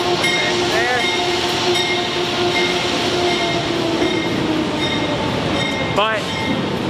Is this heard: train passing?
yes